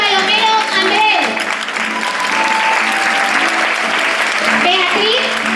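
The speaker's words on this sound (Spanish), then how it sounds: "Y así repetimos ese fuerte aplauso a Natalia Palomero Andrés," Sustained, loud applause from an audience at a 40th-anniversary celebration of a falla dance group in Valencia, a dense steady wash of clapping with a voice speaking over it.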